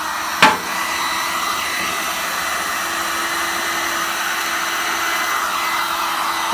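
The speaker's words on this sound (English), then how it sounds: "now we're going to heat gun this on." A heat gun blows a steady, even stream of hot air onto a wax-coated candle wrap, a continuous close-up whir with a short knock near the start.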